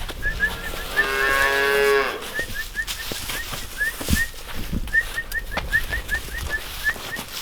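A young Angus calf gives one long, loud, close moo, then falls quiet while birds chirp repeatedly in the background on the farm.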